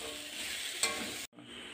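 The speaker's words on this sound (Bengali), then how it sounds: "আলুটা ভালো করে ভেজে নিতে হবে" Potatoes fry in a pan with a close, steady sizzle and one sharp clink partway through, before the sound cuts off briefly and resumes more quietly.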